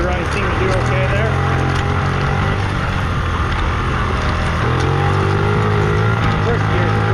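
A 1984 Honda Z50 minibike engine runs at high speed, a buzzing, droning note that steps down and climbs again as it shifts, with heavy wind rush and speech mixed in.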